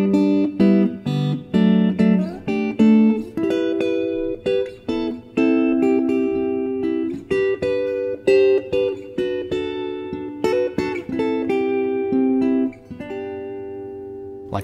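Plucked guitar playing a chord melody on three strings, short clusters of notes on the higher strings with a clear tune on top, steady and close.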